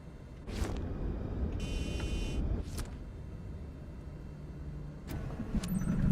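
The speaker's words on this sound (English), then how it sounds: "Turn the engine on." A light aircraft engine starts up in a flight simulator game: a few short whirring bursts, then a steady low idling drone with occasional clicks. No voices.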